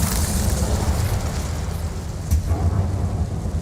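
A fiery Incendio spell blast from the Hogwarts Legacy wizarding game roars out loud and broad, with one sharp burst standing out midway through a continuous rumbling whoosh.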